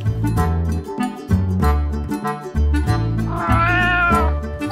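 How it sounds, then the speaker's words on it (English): Several farm cats and kittens meowing in a steady series of calls, loud and close, one long drawn-out meow near the end, with no talking. "Every farm needs cats and kittens."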